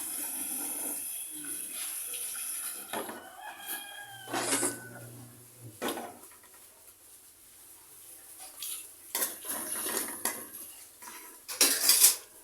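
A cooked dish is transferred into a container with scattered bursts of clattering dishes and cutlery, sharp metallic clinks and scrapes separated by quieter pauses, loudest at the end.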